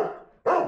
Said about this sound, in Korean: 이렇게 1시간 이상 이유 없이 짖어댄다는데요.